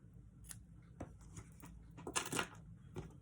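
Scissors snip paper while a summer greeting card label is trimmed, giving a few quiet, close cuts, with a small cluster of crisp snips near the end.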